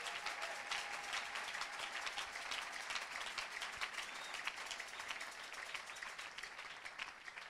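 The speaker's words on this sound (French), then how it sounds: "Est-ce qu'on peut acclamer le Seigneur?" A church congregation applauding to acclaim the Lord, sustained dense clapping from many hands filling the room at an even level with no voices over it.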